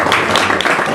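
A brief burst of audience applause, many hands clapping together in a dense, loud, even patter with no pauses.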